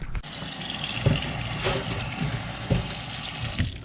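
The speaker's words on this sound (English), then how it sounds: "I'm going to give them just a quick rinse, and we'll go from there." Running tap water splashes over morel mushrooms being rinsed in a sink, a steady close gush with a few soft knocks and shifts as the mushrooms are handled.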